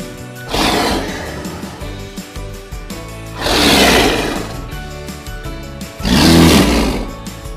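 A leopard's roar sounds three times in a Bengali alphabet rhyme for children, each a loud, rasping surge that swells and fades over about two seconds, spaced evenly apart over a quieter background.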